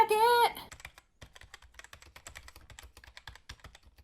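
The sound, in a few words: typing on a computer keyboard while writing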